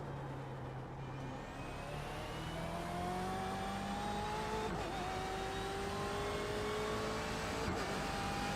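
A race car in the iRacing sim on the Daytona Road Course revs through the gears, engine pitch climbing steadily then dropping at quick shifts, loud and close from the driver's seat with no talking.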